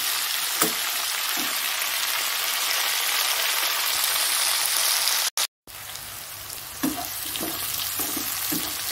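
Pointed gourd (potol) frying in a pan of hot oil, a steady broadband sizzle like light rain that runs throughout, with a few soft clinks of stirring and one brief dropout near the middle.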